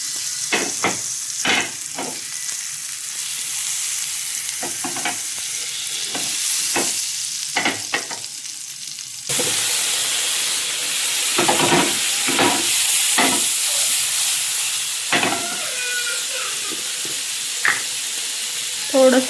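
Paneer cubes sizzle in a pan of oil and butter, a steady frying hiss broken by repeated stirring scrapes and clinks, louder in the second half as more sizzle builds.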